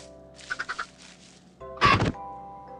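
A chicken being hit in Minecraft: four quick soft thunks in a row, then a pause and a louder game sound effect, like a bird squawk, over a steady electronic background.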